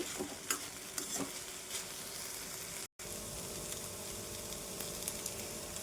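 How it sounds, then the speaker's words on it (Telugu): Oil sizzling and frying in a pan while ridge gourd chutney is prepared, a steady close crackling hiss with faint stirring clicks, broken by a brief silent gap midway. "వేగిపోయినాయండి, తీసేస్తున్నాను. చూడండి, ఇలా వేగితే సరిపోద్దండి."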